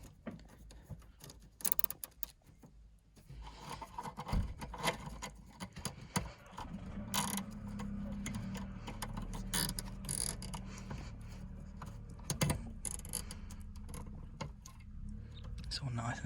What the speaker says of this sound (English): so just put a cable tie around that just to hold it down, which I'll tighten up in a second